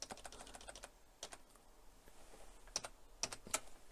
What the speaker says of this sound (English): Here I'm typing Tab, Shift Tab, Control E, Control Shift E.